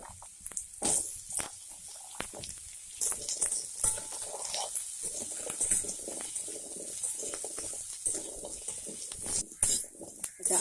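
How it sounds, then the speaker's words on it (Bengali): Potatoes fry in hot mustard oil in a village kitchen wok, a steady faint sizzle with scattered clinks of a metal spoon against the pan. "আমি আলুগুলো ভেজে নেব, একটু লালচে করে ভেজে নেব।"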